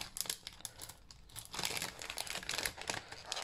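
Crinkly plastic packaging being opened to take out thin patinated metal dragonfly embellishments, with close, loud crumpling and tearing bursts throughout and a brief lull before a denser stretch of rustling.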